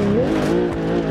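A car drifting in BeamNG lets out a loud, sustained tire squeal over the rising engine tone, one brief close skid.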